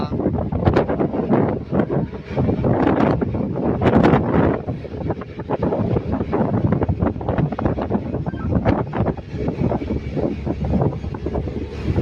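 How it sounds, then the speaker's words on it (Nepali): Gusty wind blows across an outdoor construction site with cranes near a long bridge in Kuwait, buffeting the microphone in uneven, rough bursts throughout. "हावा पनि चलिरहेछ।"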